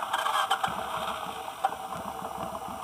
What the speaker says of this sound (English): pull the clutch, start the bike